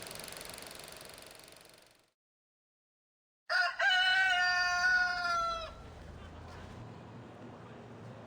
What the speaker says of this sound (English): As morning breaks, the rooster crows announcing the start of another day of hard labor for the people of the East End.